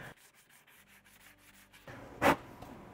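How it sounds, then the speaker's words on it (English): Rhythmic scraping strokes of a coarse-grit sanding block rubbing across wood, close and steady, followed by one louder, harsher rasp near the end. "You can absolutely do it though with a very gritty sanding block."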